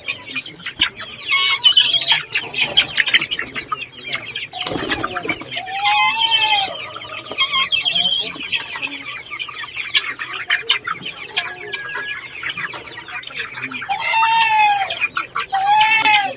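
Upgraded silky and native backyard chickens cluck and chirp in a steady, busy chorus, with several birds close by and occasional louder calls rising over the flock.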